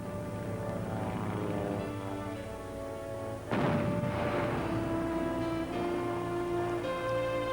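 A North American P-51 propeller plane, also called the Apache, drones steadily overhead with a continuous engine tone that swells louder midway as it passes close, under a layer of music.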